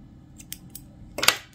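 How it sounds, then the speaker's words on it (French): Scissors snip through yarn during a crochet project, a single crisp close cut after a few faint handling ticks, with no talking. "et je coupe le fil."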